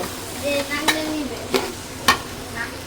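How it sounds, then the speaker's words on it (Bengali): Rice is fried with spices in a pan, giving a soft sizzle broken by a few sharp scrapes of a stirring spoon. "প্যানে একটু চালটা একটু ঝরঝরা করে ভাজি করুন"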